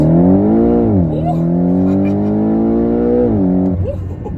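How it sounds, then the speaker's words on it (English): Porsche 718 GTS engine revving hard under throttle, loud and close, with strong rising and falling harmonic engine tones and shifts in pitch; someone talks over it. "I'm gonna throw a little throttle in this thing"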